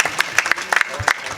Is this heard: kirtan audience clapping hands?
yes